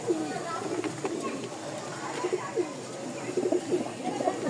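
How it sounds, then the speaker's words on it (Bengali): Soft, throaty pigeon cooing repeats in short phrases, fairly close, against a faint background hum. "কবুতরের ডাকটা দেখাই একটু যদি"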